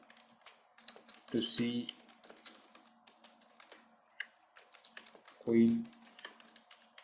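Rapid keyboard typing while writing a blog post, a steady run of light clicks and clatter with a couple of louder bursts, heard under a voice talking.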